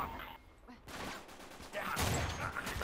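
Gunfire from the video game Uncharted 3, a burst of rapid shots in a firefight with several crackling bursts at mid distance, mixed in with game noise and voices talking over it.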